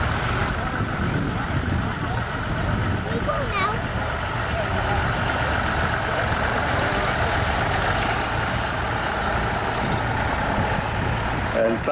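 A carburettor tractor idles at the Glenluce tractor rally near Stranraer on a sunny day, a steady low engine drone running unbroken, loud and close, while someone talks over it.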